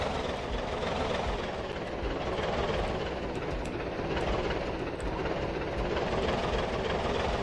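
Vehicle engine idling and rumbling steadily in the survival video game Project Zomboid, a continuous low drone holding at an even level throughout with no voices.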